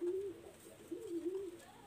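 A pigeon gives a soft, nearby coo, a couple of rising-and-falling throaty phrases in quick succession against a quiet background.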